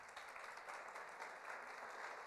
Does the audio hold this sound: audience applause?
yes